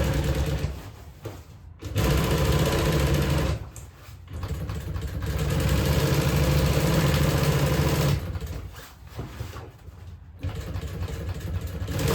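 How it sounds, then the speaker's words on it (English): A sewing machine stitches a canvas boat cover in long continuous runs of rapid mechanical whirring, separated by short pauses, loud and close. "Making a stitch."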